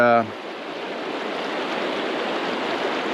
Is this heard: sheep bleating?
no